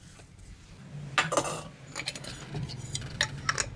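Metal lids screwed onto glass canning jars of Mexican corn, a few short clinking and scraping bursts close by, with brief pauses between turns.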